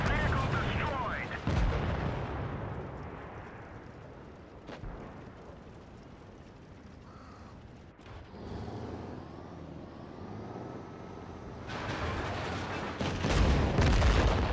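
Tank cannon fire in World of Tanks Blitz: heavy booming blasts with sharp onsets near the start, around five and eight seconds, and again near the end, over a continuous rumbling din of engine and battle noise.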